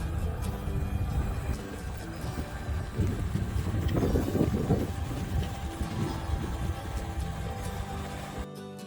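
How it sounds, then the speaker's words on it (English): Wind gusts buffet a truck camper, giving a steady, loud rumbling roar that swells and thumps in the middle and then eases, with no talking. "Don't have to worry about this wind gust quite so much."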